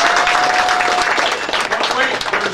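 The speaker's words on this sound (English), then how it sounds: "quick round of applause for Trent" Indoor audience at a season awards pre-ceremony giving a quick round of applause, a dense steady burst of clapping from many hands, loud and close throughout.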